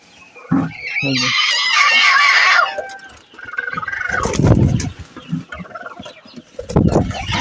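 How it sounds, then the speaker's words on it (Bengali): Rooster and chickens at close range, loud clucking and squawking calls in several bursts, one long drawn-out call near the start, with short pauses between outbursts. "এই যে ডিমে বসেছে মোরগটি।"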